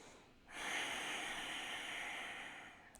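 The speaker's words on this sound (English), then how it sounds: "The sound for the earth element is your Ujjayi breath." A single Ujjayi yoga breath, a soft airy throat-constricted rush that swells in after a brief pause and holds steady for a few seconds, close and quiet with no talking.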